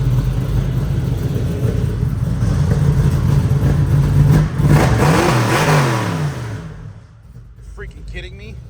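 A supercharged 1972 Chevrolet Camaro engine revs hard with a deep, rumbling exhaust that swells and then drops away. A voice talks over the engine noise, and the sound thins out near the end.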